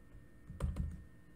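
Two quick, muffled keystrokes on a computer keyboard while typing code: a short pair of low thuds close together, fairly quiet, with no speech.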